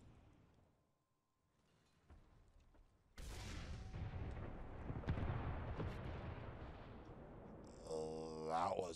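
A single heavy tank cannon shot in a tank video game booms suddenly out of near silence and rolls away in a long, loud rumbling decay.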